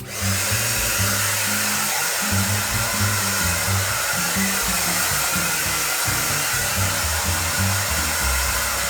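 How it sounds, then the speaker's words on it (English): A hair dryer blows on damp hair, its loud, close, constant whir running unbroken from start to finish with a slight wavering hum underneath. "the key is definitely hair drying, and that's what we're gonna do"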